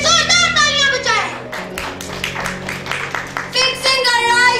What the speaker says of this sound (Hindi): Clap for the God's glory.